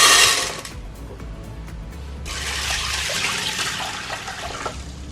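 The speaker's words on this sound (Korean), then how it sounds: "이렇게 떫은 맛이 나는 찬물은 버리고" Cold water poured off a pot of boiled mixed grains for five-grain rice, a loud rushing gush at first that eases, then a steady splashing pour running into a sink.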